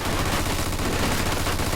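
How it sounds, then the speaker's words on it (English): Rapid, continuous machine gun fire from a Mafia II game battle, loud and dense throughout the short burst with no voices. "Looks like we found the machine gun!"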